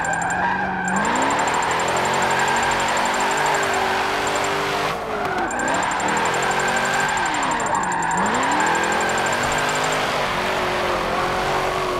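A 2003 Hoonigan Holden Commodore drift build with 500 horsepower in Forza Motorsport 7 revs loud and continuously, its engine note rising and falling through repeated throttle swings, with tire squeal running through much of the stretch.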